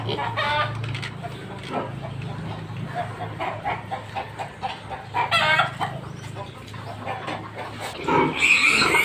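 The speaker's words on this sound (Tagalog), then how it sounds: "dito na po tayo sa ating biik na winalay" Weaned piglets, 28 days old, grunt and squeal in a farm pen with hens clucking and a rooster crowing among them, a busy, close and loud barnyard din that runs throughout.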